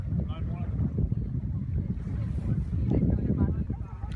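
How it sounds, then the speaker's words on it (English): Strong wind buffets the microphone aboard a sailboat on a day sail, a loud, continuous low rumbling roar with faint voices barely audible beneath it. "It's probably super windy, so you cannot hear me."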